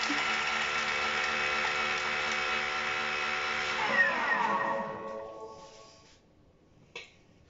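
A Thermomix TM6 whirs at speed 7 with a steady high motor whine for about four seconds, then winds down and stops, leaving a faint clack.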